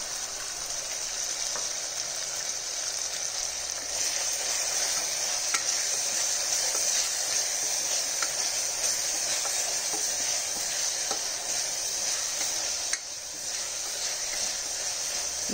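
Masala paste for chana dal curry frying and being stirred in a pan, a steady bright sizzle and hiss that runs unbroken for several seconds, close and alone with faint scraping of the spoon.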